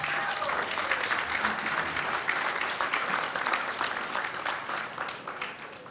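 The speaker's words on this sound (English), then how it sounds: "Give him a big round of applause." An audience at a tribute to broadcaster Paul Sidney breaks into dense, sustained applause, loud and steady for several seconds before tapering slightly at the end.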